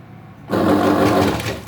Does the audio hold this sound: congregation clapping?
no